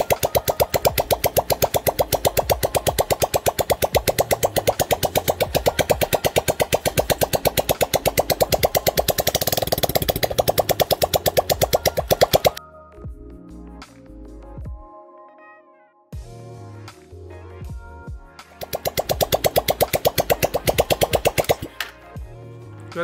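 A Lifan NBS175 (162FMK-3) motorcycle engine runs alone with a loud, steady rapid firing for about twelve seconds, then drops to quieter irregular knocks and clatter before the fast steady running returns near the end.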